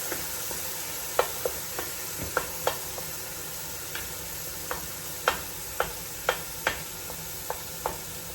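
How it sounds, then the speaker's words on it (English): Canned tomatoes crushed with the back of a wooden spatula in a hot pan for bison lasagna, giving a soft continuous sizzle and a string of light taps and clicks at an uneven rhythm, close and fairly quiet, with no talking. "I'm just gonna crush these up with the back of my wooden spatula"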